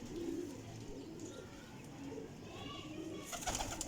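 Old-breed desi pigeons coo softly, low repeated throaty calls close by with a quiet background and no talking.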